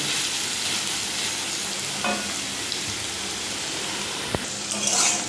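Onions frying in a pan give off a steady, close hiss of sizzling oil with no voices, broken by a faint clink or two near the end.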